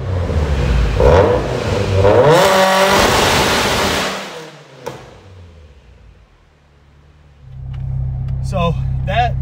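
A 900hp Subaru STI revs loudly with rising and falling engine pitch and a brief tire-squeal-like burst, then drops quiet before a steady low idle rumble returns.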